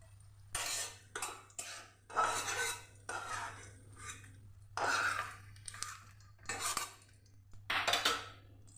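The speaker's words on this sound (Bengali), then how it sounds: "আমার নিম পাতা ভাজা হয়ে গেছে, এবার আমি একটা বাটির মধ্যে তুলে নিচ্ছি" Fried neem leaves being scooped from a pan into a bowl for neem begun chhechki, a series of separate scraping clinks of a metal spatula against cookware, close and irregular, with quiet gaps between strokes.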